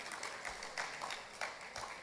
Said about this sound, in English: So ladies and gentlemen, a round of applause for our sponsors.